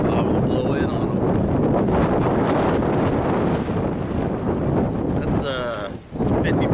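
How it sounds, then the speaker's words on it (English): Strong wind at about 50 mph roars outdoors, buffeting the microphone with loud, continuous rumbling gusts that briefly ease near the end. "That's some 50-mile-an-hour wind right there."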